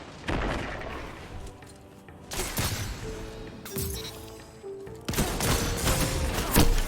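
Pulse rifle gunfire in Destiny, bursts of rapid shots with booming impacts coming in several loud stretches amid game sounds.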